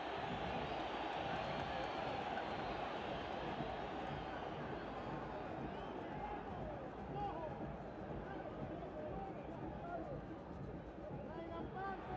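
Broad crowd murmur swelling in a football stadium at a Concacaf qualifier between El Salvador and Guatemala, a continuous, moderately distant roar of spectators with some voices audible in the mix.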